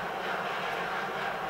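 A train rumbles past in GTA V, a steady broad roar with a bright mid-range hiss that holds evenly and close throughout, with no voices over it.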